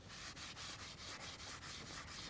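A scouring pad scrubbing dirt off an aluminum bike frame, close, rhythmic rasping strokes in quick back-and-forth succession, about eight passes, loud and alone.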